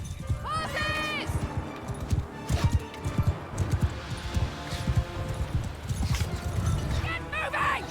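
Horses in the medieval battle game Mount and Blade Bannerlord, a steady clip-clop of hooves with occasional whinnies under a dense din of battle and someone shouting orders throughout.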